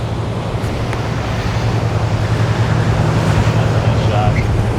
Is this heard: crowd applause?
no